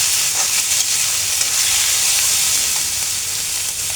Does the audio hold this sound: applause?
no